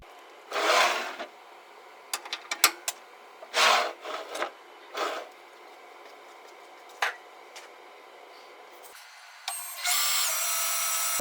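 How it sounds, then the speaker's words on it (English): A CNC machine cuts a jar shape for a silicone mold, facing the front, then roughing and finishing the sides and inside, in short bursts of grinding and rasping with gaps between, ending in a louder sustained whine. "First, a facing of the front, roughing of the sides and inside, and then finishing passes to cut the final shape."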